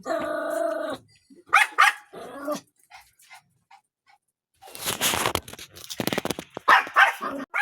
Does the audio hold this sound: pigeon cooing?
no